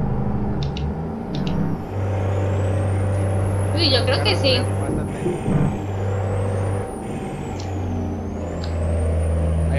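Trucks in American Truck Simulator give a steady engine drone with a low tonal hum, a short hissing air-brake burst midway and a rising-and-falling whine that carries on beneath a person's brief remarks.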